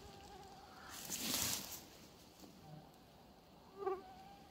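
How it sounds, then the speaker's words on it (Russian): Mosquitoes buzzing in a forest during mushroom hunting in Belarus, a faint thin whine that swells briefly near the start and returns as a short closer buzz later, over quiet woodland background. "Комары, конечно, да. Наслаждение немного портит."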